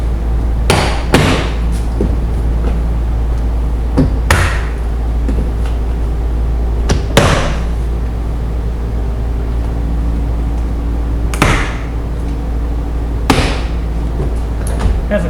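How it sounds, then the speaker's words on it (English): Plastic clips on a Silverado door panel pop loose in a handful of sharp, separate snaps spread over several seconds, each one a short crack over a steady low hum. "we just start popping the door panel off."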